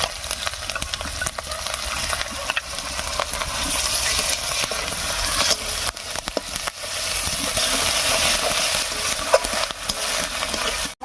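Chili paste and cumin paste frying with onion in a pan for a rohu fish curry with cauliflower and potato: a loud, continuous sizzle with frequent stirring scrapes throughout and no voices.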